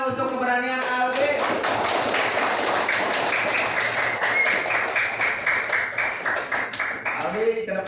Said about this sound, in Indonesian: Tepuk tangan untuk keberanian Albi